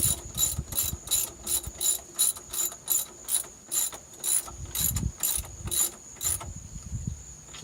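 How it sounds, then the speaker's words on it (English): A ratcheting torque wrench tightening the shock bolts on a Harley Davidson during a Progressive Series 412 shock install, a close run of about fifteen rhythmic metallic ratchet clicks in even strokes before stopping. "So we're just going to snug these up. I do have a torque wrench."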